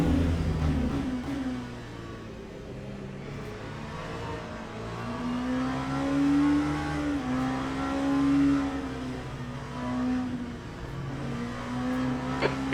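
Race car engines in Le Mans Ultimate, a multiclass race at Bahrain, hold a steady loud drone with rising and falling pitch as cars accelerate and pass, continuous throughout with no talking.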